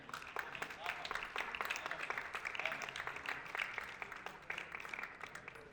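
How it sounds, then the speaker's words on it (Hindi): Applause from an audience at an international Urdu poetry conference in Houston, steady dense clapping lasting several seconds at moderate loudness, with a voice faintly speaking over it. "आपकी भरपूर तालियों में।"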